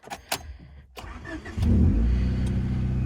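A Honda Accord fitted with new spark plug wires cranks briefly and catches at about 1.5 seconds, then settles into a loud, steady, close idle with no voices.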